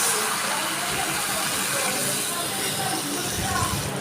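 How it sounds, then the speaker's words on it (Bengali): Water poured into a cooking pan holding potatoes, part of a Bengali dish of Malabar spinach and prawns, a steady close hiss and splash of flowing liquid that stays continuous and even throughout. "দিচ্ছি একটু জল।"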